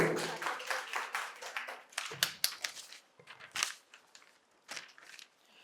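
At a quiz competition held at Santiniketan Medical College and Hospital, scattered, fairly faint claps come in uneven bursts from the audience, separated by short pauses.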